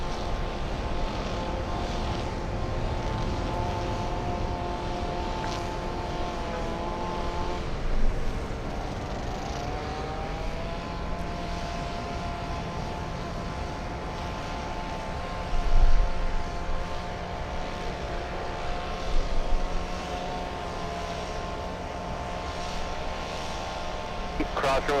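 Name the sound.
Delta airliner arriving at LAX from Haneda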